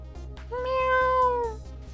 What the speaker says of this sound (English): Is that a black cat?